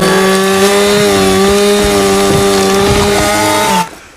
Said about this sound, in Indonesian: ia mencoba memotong tangannya sendiri menggunakan gergaji mesin